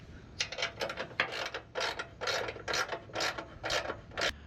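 A ratchet wrench tightening rock slider mount bolts on an Ineos Grenadier, heard up close as about ten rapid bursts of clicking, each a short grinding ratchet stroke, with brief pauses between them.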